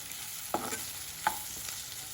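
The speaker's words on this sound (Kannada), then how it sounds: "ಇದು ಚೆನ್ನಾಗಿ ಫ್ರೈ ಆಗಿದೆ" Salted capsicum fries in a pan with a soft, even sizzle, broken by two quick spatula scrapes about a second apart.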